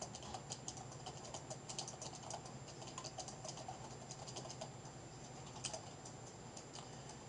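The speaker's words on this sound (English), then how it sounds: "I'm trying to save a little bit of typing here" Soft, quiet typing on a computer keyboard: irregular bursts of light key clicks continuing for several seconds with no talking.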